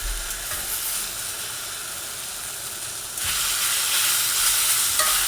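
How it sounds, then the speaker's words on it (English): Pork shoulder pieces and their juices hitting a hot skillet, a broad steady sizzle that jumps louder partway through as more is dumped in, close and continuous with no talk. "we're going to go ahead and dump all this back in the skillet"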